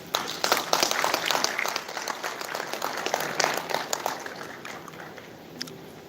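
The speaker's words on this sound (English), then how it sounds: "please give Mr. Hoppner a big round of applause" Audience applause for a speaker being welcomed at a digital assets regulation conference, a dense wash of many hands clapping that swells early and gradually thins toward the end.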